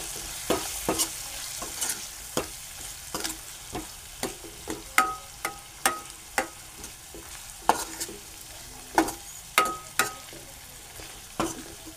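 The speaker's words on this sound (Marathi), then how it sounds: "आता मी हे ढवळून घेतो." A spoon scrapes and taps repeatedly against a kadhai while masoor dal is stirred, in sharp, fairly regular strokes over a low simmering hiss, no talking.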